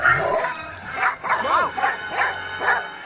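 Several dogs bark and yip in quick, excited bursts close by, overlapping calls rising and falling over about three seconds, with a brief whimper-like cry among them.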